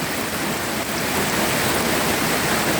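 Heavy rain from Typhoon Noru pours down on an orchard, a dense, constant roaring hiss with no pauses, loud and close throughout.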